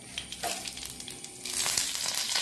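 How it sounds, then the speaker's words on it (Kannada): Mustard seeds sizzle and crackle in a spoonful of hot oil as a tempering for green gram neer dosa chutney, a steady close fry that grows louder and denser partway through, with no talking. "ಇಲ್ಲಿ ಇದು ಬಿಸಿ ಆಗುವಾಗ ಇದಕ್ಕೊಂದು ಒಂದು ಸಣ್ಣ ಒಗ್ಗರಣೆ ಕೊಡುವ."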